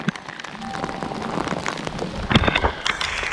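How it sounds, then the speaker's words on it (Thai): Heavy storm rain pours down in a dense, continuous hiss with sharp drips and spatters close by, loud throughout. "ตอนนี้ก็ฝนตกมาอีกเลย"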